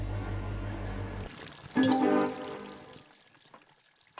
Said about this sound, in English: What is with the scary running water noise? Sound like someone flushed a toilet.